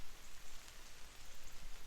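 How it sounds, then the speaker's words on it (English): Heavy rain pours steadily onto the surface of a fishing pond, a dense, even hiss of drops that stays faint but unbroken throughout. "it rains really hard, which it's still raining"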